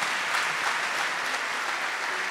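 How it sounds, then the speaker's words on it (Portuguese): Large congregation at a religious gathering giving a big round of applause, a dense, even wash of many hands clapping continuously throughout, loud and unbroken. "uma grande salva de palmas"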